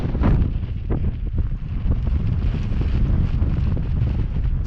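Gusty wind buffets an ice fishing tent, a loud low rumble with flapping bursts near the microphone, continuous throughout.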